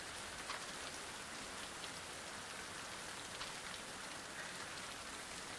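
Rain in a horror video game falls as a constant, even hiss of drops on a surface, faint and steady throughout with no voices.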